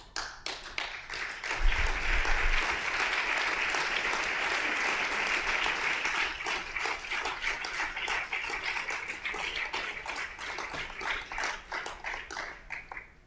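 A large audience at a Spanish political round-table event breaks into sustained, dense applause that stays loud and steady for the full thirteen seconds, with no voices over it.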